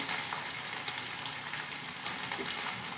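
Onions sizzle and crackle steadily in hot oil in a pan for a vegetarian dish, a continuous close frying hiss with a few sharper pops and no talking.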